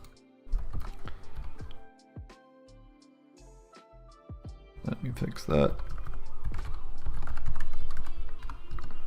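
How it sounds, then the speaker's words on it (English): Close, steady typing on a computer keyboard while coding in C, clattering key taps in uneven bursts throughout, with a person talking over it. "A lot of typing. Forgot how much typing there was in C."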